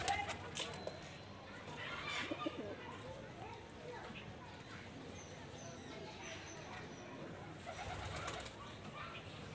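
Domestic pigeons, a male among them, cooing in a loft, the calls soft and mixed with rustling and background chatter, with people talking nearby.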